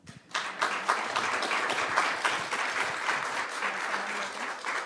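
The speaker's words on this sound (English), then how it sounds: "Let's give them a quick round of applause." A room full of people at a knowledge-sharing session claps in a quick round of applause, starting suddenly and staying dense and steady.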